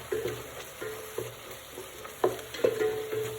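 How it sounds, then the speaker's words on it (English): Mushrooms cooking in a vegan soup pot are stirred with a utensil, producing a few soft scraping knocks and light clinks over a low simmering bubble. "And then I'm just going to stir that up."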